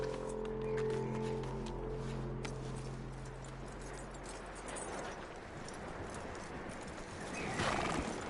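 In the Western game Red Dead Redemption, a horse snorts and whinnies, then its hooves clip-clop in a steady rhythm across the ground, fairly faint and close, with no talk over it.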